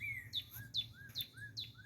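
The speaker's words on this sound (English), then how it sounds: "Birds are very talkative today, way up there on the wire." Birds perched high on a wire chirping in quick repeated descending calls, about four bursts in under two seconds, faint and distant over low outdoor rumble.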